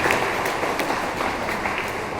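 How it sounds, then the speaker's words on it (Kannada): An audience at a religious discourse at a math claps loudly, a continuous wash of many hands with a few sharper claps standing out. "ಒಂದ್ಸರಿ ಜೋರಾಗಿ ಚಪ್ಪಾಳೆ ತಟ್ಟಿ ನೀವು ಅವರನ್ನು ಅಭಿನಂದಿಸ್ಬೇಕು"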